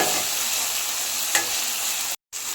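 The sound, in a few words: okra and tomato frying and being stirred in oil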